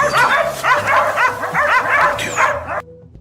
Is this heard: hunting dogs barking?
yes